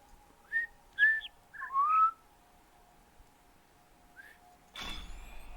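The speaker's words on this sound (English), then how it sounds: "It is, it's bird chirps." Bird chirps in The Witness video game, a few short whistled calls rising and falling, clear and fairly near over a steady low hum, followed by a brief burst of brighter noise at the end.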